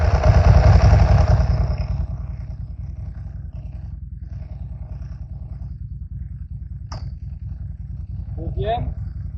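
A motorcycle fitted with a quickshifter revs loudly at the start, then settles to a steady idling rumble, with a couple of brief sharp noises near the end.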